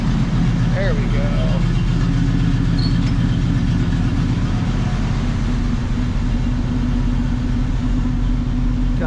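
An old truck engine just pulled from storage idles steadily with a continuous low rumble and fast regular firing pulses throughout, close and loud.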